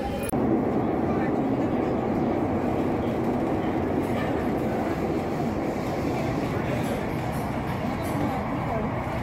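A Mumbai underground metro train runs through a tunnel between Bandra Kurla Complex and Dadar, a steady loud rumble and rattle throughout, with passengers talking faintly.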